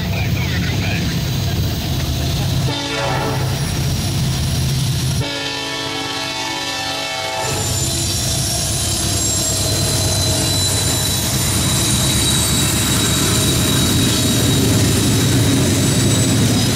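Third-generation K5 horn on a passing freight or rail train at a trackside railfan hangout, a loud sustained multi-tone chord blaring over heavy rumbling wheels and engine noise, with people talking nearby.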